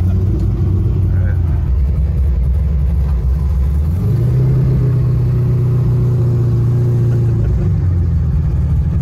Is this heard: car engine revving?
yes